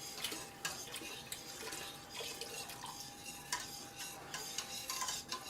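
Stirring milk into chicken broth and roux in a pot: soft, continuous scraping and swishing with light irregular clicks and a faint sizzle, close by and fairly quiet, with no talking.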